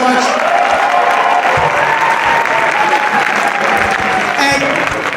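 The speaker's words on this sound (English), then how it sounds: "Give her a round of applause." An audience claps in a steady, dense round of applause after a performance at a school winter band concert, loud and sustained throughout with a light cheer near the end.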